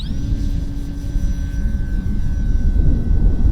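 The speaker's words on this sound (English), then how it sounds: "Let's go half flaps, taking off in the grass, being ready to come out of the throttle" An electric RC model airplane with half flaps takes off from grass, its motor holding a high steady whine over a loud, constant rumble of wind and ground noise.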